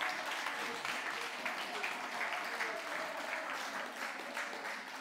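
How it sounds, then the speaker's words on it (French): Church congregation applauding the Lord, a steady, dense wash of clapping that fills the whole stretch, with voices acclaiming beneath it. "On acclame le Seigneur."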